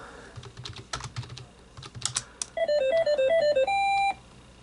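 Keyboard typing of text commands in the retro adventure game Peasant's Quest, a quick run of clicky keystrokes followed by a short series of bright electronic beeping tones from the game.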